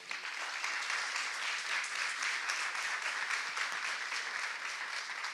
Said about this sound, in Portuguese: Maurício, aplausos.